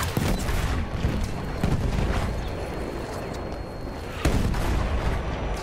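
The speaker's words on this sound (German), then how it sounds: "Machen wir da ein paar Granaten." Several heavy booms and gunfire in a Battlefield 1 Conquest battle, with two sharper blasts standing out over continuous fighting noise and no talk.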